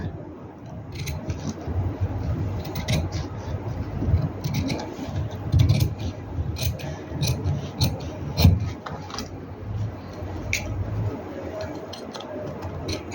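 Scissors snipping baby dress fabric along marked lines, a long run of quick crisp cuts and rustles close by, spread unevenly over the whole stretch with brief pauses, no talking.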